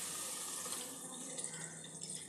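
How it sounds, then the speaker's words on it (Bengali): Milk pours steadily into a pot of bottle gourd kheer cooking with ghee, a soft continuous liquid splash and gurgle, close but fairly quiet. "এখানে দুধটা নিয়েছিলাম, দুধটা দিয়ে দেব।"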